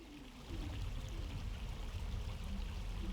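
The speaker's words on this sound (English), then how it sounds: "still hear the water flowing." Steady water flowing in the game King's Bounty: Dark Side, with music turned off, a soft continuous rushing stream ambience with no other sounds on top.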